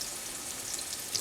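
Food shallow-frying in very hot oil, with a steady, close hiss and crackle that holds even throughout and swells briefly near the end.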